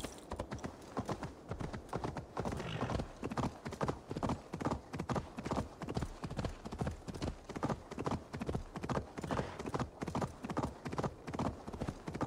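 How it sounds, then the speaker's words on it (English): Rapid, steady hoofbeats of a galloping horse in Assassin's Creed Valhalla, a dense, driving clip-clop rhythm that runs the whole time at close, even loudness. "Is that my horse all the way there?"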